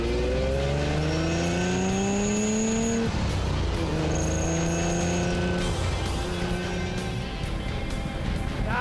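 Lamborghini Countach engine roaring up and down through revs, loud and close, with rising and falling pitch sweeps and a brief drop between pulls, no talk over it.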